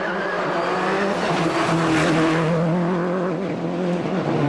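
Rally car at the 2004 Monte Carlo Rally on an icy, snowy stage, engine revving hard through a hairpin with shifting pitch and some tire scrabble, loud and continuous.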